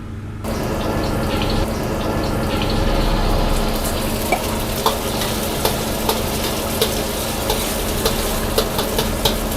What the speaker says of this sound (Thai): เดี๋ยวเราก็จะมาคั่วเส้นกับไข่กันก่อนเลยนะครับ